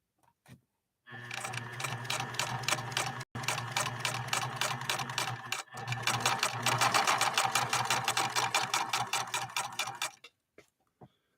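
A PFAFF 1222 sewing machine stitches through fabric in steady rapid bursts, its needle ticking in a fast mechanical rhythm with a brief pause midway, close and clear with no talking.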